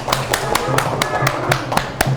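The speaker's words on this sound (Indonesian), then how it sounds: "Beri tepuk tangan buat kelompok 1" Rhythmic group clapping in a classroom for the first student group, about nine evenly spaced claps in quick succession, close and loud with voices underneath.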